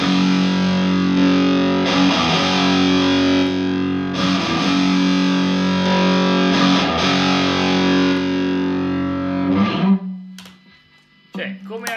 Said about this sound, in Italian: l'OCD è un pedale adatto appunto a qualsiasi tipo di genere che si basa su un suono Marshall